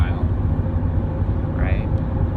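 Car interior while driving: a loud, steady low road and engine rumble throughout, with a brief rising whine partway through and a person speaking over it.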